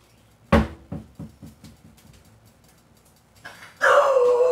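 A sharp door slam is followed by a house dog's rapid string of short barks fading into yips, then a louder drawn-out whining bark near the microphone.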